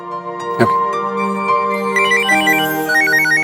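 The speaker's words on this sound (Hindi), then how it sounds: "सरस्वती दीदी का फोन" A phone ringtone plays a repeating electronic melody, steady and clear, with a brief sharp clatter near the start, in a Hindi TV drama.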